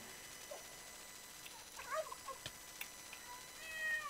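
Cats meow in the Minecraft video game, a few short, faint meows and squeaks scattered over a quiet background, with a higher cry near the end.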